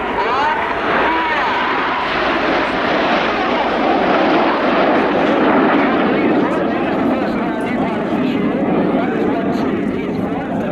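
A formation of display jets at an air show roars past with smoke trailing, a loud, sustained rushing engine noise that stays close and heavy while a commentator talks over it.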